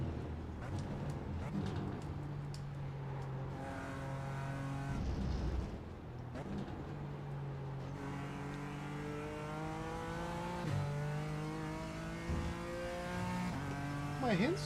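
A BMW M4 GT4 race car lapping Suzuka in a racing video game: the engine drones and rises through the gears with steady harmonic pitch sweeps, sharp shift drops and brief tire squeal, continuous and close throughout.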